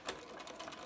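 A sewing machine stitches fabric for a face mask in a short, steady burst, its rapid mechanical stitching close and even.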